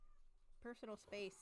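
Several short meows from house cats indoors in a bedroom, three to four quick harmonic calls close by, with a person speaking briefly just before.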